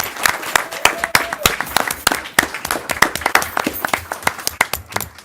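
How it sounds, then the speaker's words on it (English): An audience at a town council meeting claps continuously, a dense patter of individual hand claps from a modest crowd, loud and close. "yeah, please applaud."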